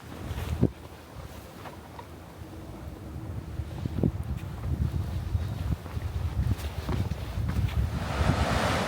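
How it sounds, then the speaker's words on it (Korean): Rushing water of the Hantan River canyon, heard from a sandy riverbank as a steady broadband roar mixed with wind buffeting the microphone, growing louder toward the end, with no talking. "한탄강의 거센 물소리가 귀를 사로잡습니다"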